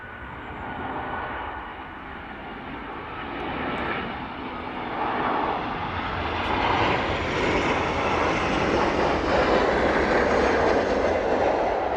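A Gulfstream jet comes in to land at East Midlands Airport, a broad roaring whoosh of jet engines that swells gradually and holds loud and close toward the end.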